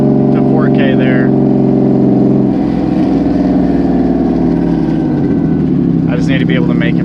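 A Subaru WRX engine pulls in third gear from about 2,500 to 4,000 rpm while merging onto a freeway, a loud droning rev heard from inside the car with a shift or dip partway through.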